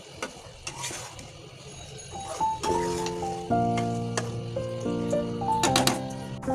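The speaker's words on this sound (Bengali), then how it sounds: "এখন আমি এটা একবারে ভাজা ভাজা করে নেব" Pickle sizzles in hot oil in a pan, stirred with a spatula that scrapes and clinks irregularly against the metal over a steady crackle, close by.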